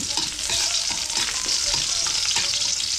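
Onion fries in hot cooking oil in a pan for adobo, a loud, dense, steady sizzle broken by repeated scrapes and clinks as it is stirred, close up with no talking.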